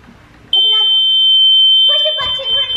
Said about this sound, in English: all the doors that lead to the pool have this obnoxiously loud pool alarm